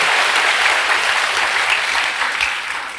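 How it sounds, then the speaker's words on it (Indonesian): A church congregation applauds after worship, a dense, loud, steady clapping that fills the space and tapers slightly toward the end, with no voices standing out. "Berikan tepuk tangan kita untuk Tuhan kita."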